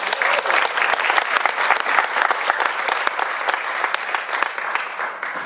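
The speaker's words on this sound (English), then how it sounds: "Let's give her a round of applause." Steady audience applause, many hands clapping densely and evenly for several seconds, fairly close and loud.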